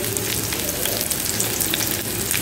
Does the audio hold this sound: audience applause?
no